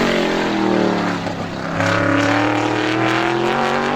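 An ISMA Supers race car lapping Star Speedway in time trials, a loud, harmonic engine roar that dips briefly as it lifts, then surges back at full throttle, heard close with no talk.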